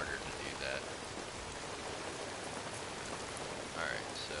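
Steady rain in the Days Gone video game hisses as a constant close wash of drops, with faint voice-like sounds briefly audible under it.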